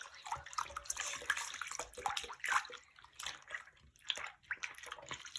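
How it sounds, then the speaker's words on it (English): A fidget toy dipped and swished in a basin of soapy water, with soft continuous sloshing, splashes and drips close by, fairly quiet throughout. "I'm gonna dip it in the water because the water is soapy."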